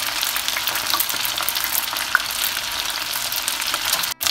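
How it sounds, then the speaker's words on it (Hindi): Macaroni frying in hot oil until light golden brown, a steady dense sizzle running evenly throughout with one brief pop near the middle and a short dropout near the end. "और हम इसे हल्का गोल्डन ब्राउन होने तक फ्राई करेंगे।"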